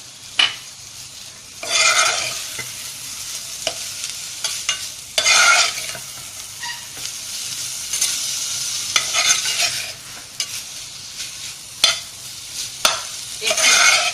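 Ginger garlic paste fries in a pan with a continuous low sizzle while a spatula scrapes and stirs in repeated bursts, close and moderately loud, with nobody speaking.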